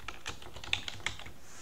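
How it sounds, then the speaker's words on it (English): A computer keyboard being typed on for a password entry during a Linux installation, giving a quick, uneven run of close, light key clicks with a few sharper taps and no talking. "And I have to type it a second time."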